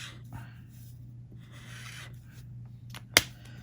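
Chisel tip of a Daiso marker dragged across paper in soft, continuous rubbing strokes, faint and close, with one sharp tap near the end.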